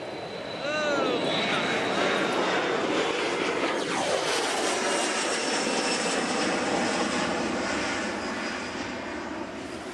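A fixed-wing airplane engine roars loudly and continuously, swelling up within the first second and holding a steady, broad drone that eases slightly toward the end, with voices faint beneath.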